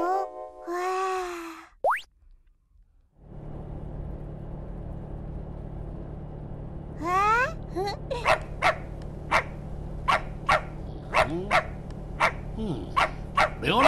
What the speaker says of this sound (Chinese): 流浪狗叫什么叫啊？ 吵死了！